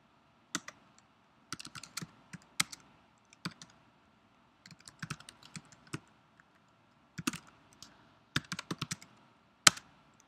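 Someone types on a computer keyboard while logging into an AWS instance: short bursts of quiet, close key clicks, irregular clusters separated by pauses, with no talking.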